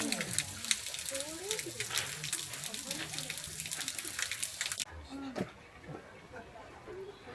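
A small waterfall among green moss splashes steadily under a narrating voice, the flow continuous and moderately close, dropping to a softer trickle partway through.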